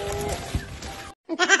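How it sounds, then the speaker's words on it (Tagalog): Baby goats bleat on a rural farm, a wavering cry cut off abruptly, then after a short gap another close, loud bleat starts up. "Yung mga baby kambing guys."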